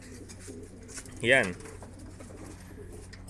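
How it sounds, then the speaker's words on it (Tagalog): Racing pigeons in a loft give one clear, fairly close coo-like call, set over a low background hum while a voice speaks briefly nearby. "So ito na lang yung mga natirang ibon natin dito."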